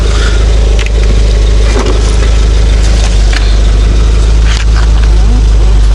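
A car engine idles loudly and steadily up close, with a dense, constant low drone and a few faint clicks over it, and no voices.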